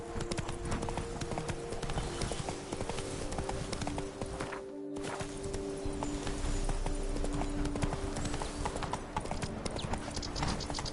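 Roach the horse gallops in The Witcher 3: Wild Hunt, Blood and Wine, with rapid, steady hoof clip-clops that run loud and continuous under faint game ambience, briefly dipping midway.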